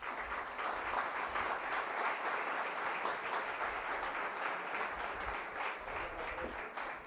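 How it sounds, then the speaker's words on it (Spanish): A seated audience gives dense, steady applause to welcome a panel, many hands clapping together at even loudness for about seven seconds, somewhat distant and roomy. "lo recibimos con un fuerte aplauso"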